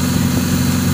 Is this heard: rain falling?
no